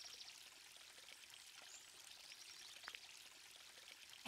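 Water pours and drains away in the video game Another Code: Recollection, a steady soft hiss of flowing water running throughout at low level with no voices.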